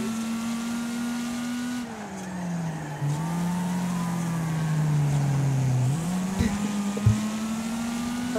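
Race cars roar through a Wreckfest race, engines droning steadily with rising and falling pitch as they shift and accelerate, plus a few sharp knocks near the end; loud and continuous with no talk.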